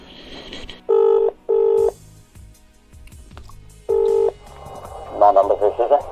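Telephone keypad tones sound while dialing a number from a classified advert for an Amiga 600: three distinct, loud tone bursts with quiet line hiss and faint clicks between them, then a burst of ringing or line noise at the end.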